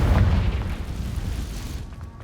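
A Confringo blasting spell in Hogwarts Legacy, heard as a single deep, muffled boom that swells at once and slowly fades, alone with no talk.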